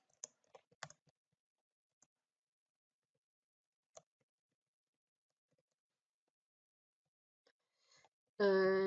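A few sparse, quiet clicks of computer keyboard keys come in small bursts with long silent gaps between them, as a short post is typed. A voice begins at the very end.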